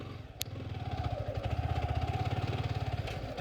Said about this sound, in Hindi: R15 जैसी स्पोर्ट बाइक ऐसे ही रास्तों पे हम चलाते हैं